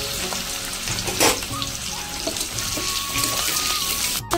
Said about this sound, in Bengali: আমি আলুটা এখন তেলের উপর দিয়ে ভেজে নেবো ভালো করে